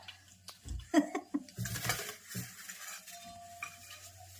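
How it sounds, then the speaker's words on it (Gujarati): Hot oil crackles and sizzles close by as spices temper for an undhiyu mixed-vegetable dish, while a spoon clatters and scrapes against the pan in uneven bursts. "વઘાર પણ જોરદાર"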